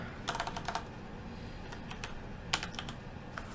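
Keystrokes tapped on a computer keyboard while naming a new 3D project in Unity, arriving in quick clustered bursts with pauses between, close and moderately quiet over a faint room hum.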